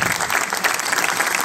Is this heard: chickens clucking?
no